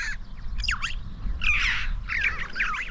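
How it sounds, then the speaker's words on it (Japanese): A bird on open Mongolian grassland near Karakorum gives a series of harsh, rasping calls in short bursts, fairly close and clear over a low, steady wind rumble. "何の鳥だろう、あれ。"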